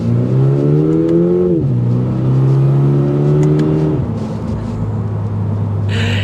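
A 2023 Toyota GR86 10th Anniversary accelerating from a stop, its engine rising in pitch through a gear change, then climbing again before easing off, loud and close.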